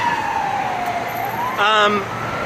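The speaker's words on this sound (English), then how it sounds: "Sirens." An emergency siren wails in Puerto Rico, its pitch sliding slowly down and then back up, moderately distant over steady traffic rumble, with a brief louder tonal blast near the end.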